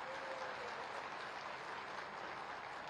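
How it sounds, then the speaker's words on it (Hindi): Sustained applause from a large crowd welcoming Yogi Adityanath at a public event in Muzaffarnagar, a thick, even roar of clapping that stays steady and loud throughout. "मैं चाहूंगा जोरदार तालियों के साथ एक बार योगी आदित्यनाथ जी का हम स्वागत करें।"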